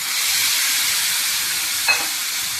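Lemon juice mixed with turmeric and salt is poured into a hot pan, giving a steady, close sizzling hiss that holds throughout with a brief flare near the end.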